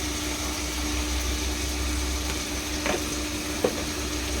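Alu posto fries in a pan with a steady sizzle while being stirred, with one or two soft scrapes of a spatula near the end, close and continuous.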